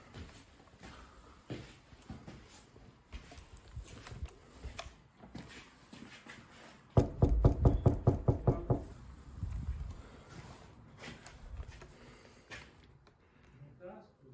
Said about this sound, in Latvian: Labi, es pieklāvēšu.